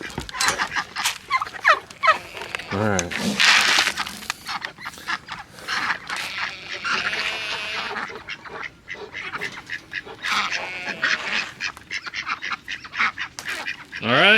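A flock of poultry gobbles, honks and squawks busily at close range, with a brief spoken remark.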